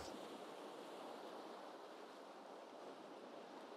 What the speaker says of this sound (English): You can hear the sound of the gentle ocean.